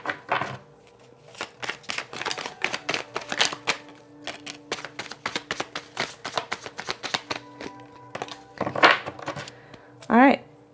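Tarot cards being shuffled by hand in a series of rapid riffling bursts, crisp and close, coming in quick repeated clusters with brief pauses and a couple of louder flicks near the end; no talk.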